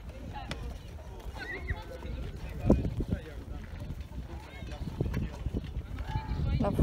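Horse hooves clip-clop along at a trotting pace as a horse pulls a chariot, under a voice talking, with outdoor crowd noise in the background.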